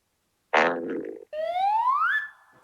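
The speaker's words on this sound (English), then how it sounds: "Fart." A fart sound played as part of a guessing game during an interview: a short, buzzy, rumbling burst, then after a brief gap a longer rising, squeaky tonal blast, loud and isolated against silence.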